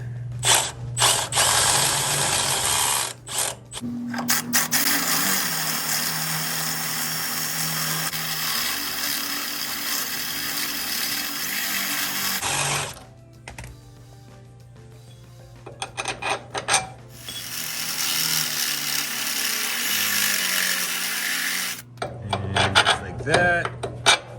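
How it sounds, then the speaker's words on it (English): A drill enlarges bolt holes in metal on a D100 truck's front end in two long, harsh grinding runs. A brief pause with clanks and rattles separates them, and scraping follows. "Need to drill out these holes to fit the bigger bolt."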